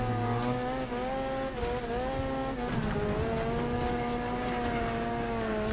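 A car driving along a road in the video game Next Car Game, a steady close engine whine with gear-like pitch shifts and a brief scrape near the middle, continuous and loud with no talking.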